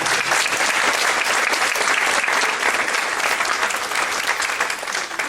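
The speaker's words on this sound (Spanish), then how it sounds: "Recibámoslas con un fuerte aplauso," A dense, steady burst of audience applause welcomes two speakers at a talk on competency-based selection interviews. It sounds loud and continuous throughout, with no voices over it.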